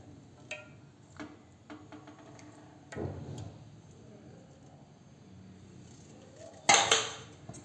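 A spoon clinks and scrapes as Bournvita powder is mixed with a little milk, with light taps and scraping through the stretch and a louder, sharper clatter near the end.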